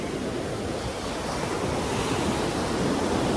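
Ocean surf rolls in strongly at Nha Trang beach in Vietnam, a loud, continuous wash of breaking waves with wind rushing across the microphone and no pauses.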